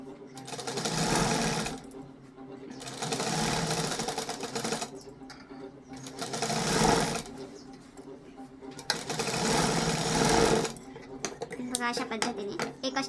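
A sewing machine stitches a seam on a princess-cut blouse in repeated bursts of rapid clattering, each a couple of seconds long with short pauses between them, close and clear.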